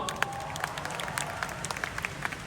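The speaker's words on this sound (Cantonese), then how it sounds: "俾掌聲佢好嗎？" Applause from a concert audience at a tour show, a moderate wash of clapping with scattered sharper individual claps over a low background hum.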